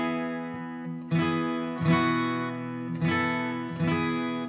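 An acoustic guitar without a capo strums four full chords at a steady pace, each ringing out bright and close before the next stroke, with no talking.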